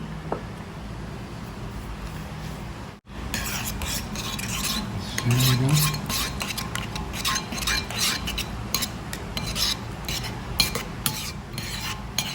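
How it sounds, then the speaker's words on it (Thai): Chopped garlic being stirred into pizza sauce in a home kitchen, a steady soft scraping and clinking of a utensil against a bowl, close and continuous with small irregular taps throughout. "แล้วก็ผสมกันนะคะ คนให้เข้ากันค่ะ"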